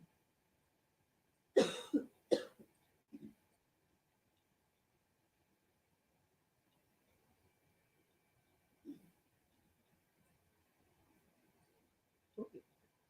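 A teacher coughing during a live science class, a couple of sharp, close coughs near the start followed by a few softer throat-clearing bursts spaced across an otherwise quiet room.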